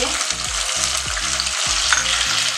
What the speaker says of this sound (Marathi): हे छान परतून घ्यायचं आहे तेल सुटेपर्यंत.